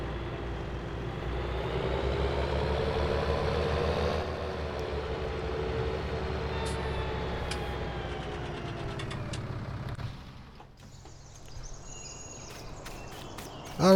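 Tractor engine running in a farming video game, a steady loud mechanical drone with rumbling low end that holds for about ten seconds, then drops away to quieter ambience with faint chirping and a final bump.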